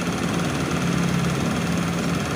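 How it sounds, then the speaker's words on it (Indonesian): A carbureted Honda Vario motorcycle engine idles close up, a steady low droning rumble with a constant hum and no change in revs. "ini motor masih hidup Mas Bro, ini motor tak hidupin"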